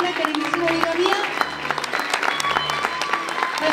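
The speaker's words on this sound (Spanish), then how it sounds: "démosle un fuerte aplauso para ella" An audience claps strongly for a woman being honored at a gathering, dense and steady for the whole stretch, with voices and a low hum mixed in underneath.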